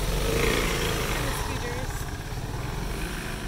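Small engines buzz and rattle steadily nearby, a continuous motor drone with faint background noise.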